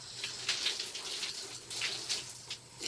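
Water rinses a bleach cleaning product off a mould-cleaned surface, with soft, close splashing and pouring that rises and falls in small surges for a few seconds, with no speech.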